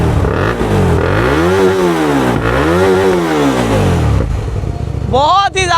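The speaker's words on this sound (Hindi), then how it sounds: "आप सुनोगे साउंड इस बाइक का बहुत ही ज़्यादा ब्यूटीफुल लगता है मुझे इसका साउंड" A Hyosung GT250R twin-cylinder motorcycle engine revs loudly and nearby in two rising-and-falling sweeps, then idles briefly before a final sharp blip of the throttle.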